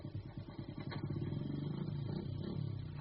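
Motorbike engine sound effect in a BBC radio drama, a steady mid-pitched running engine with rhythmic pulsing that builds and holds, loud and close, with no talk over it.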